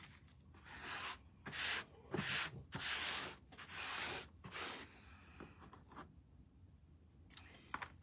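Scissors snip and rustle while trimming the stem of a cardinal candlestick craft piece, a series of soft, scratchy cuts and rubbing sounds, close and faint.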